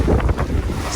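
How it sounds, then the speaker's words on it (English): Sudden strong wind gust while sailing a Wharram Tiki 21 catamaran, loud buffeting wind roar hitting the microphone with rushing water beneath, close and continuous for a second. "we got this crazy gust going"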